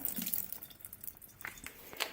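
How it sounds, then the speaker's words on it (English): Water trickles and drips faintly from an opened refrigerated tofu package as it drains, with small irregular splashes close by. "Tofu is always refrigerated in water, so we're going to drain off that water."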